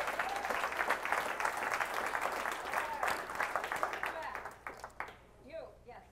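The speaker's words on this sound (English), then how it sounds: "Round of applause" A conference keynote audience gives a round of applause, brisk close clapping that stays steady before thinning out into scattered claps as voices come in at the end.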